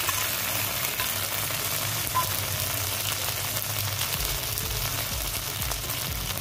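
Ginger garlic paste hits fried onions in a hot pan, giving a steady, close sizzle and crackle of frying with some stirring scrapes, continuous throughout.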